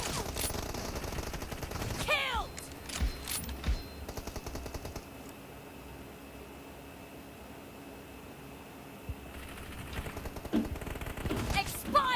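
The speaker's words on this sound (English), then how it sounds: "don't shoot with the AK, please" Automatic AK rifle fire in the mobile battle-royale game PUBG Mobile comes in rapid bursts near the start and the end, with a quieter stretch between and game noise underneath.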